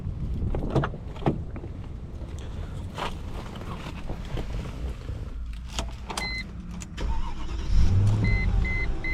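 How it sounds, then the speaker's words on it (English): A 2004 Mercedes-Benz ML500's V8 engine cranks, catches and settles into a steady idle up close, its low rumble swelling louder near the end, with no voices. "That glorious V8"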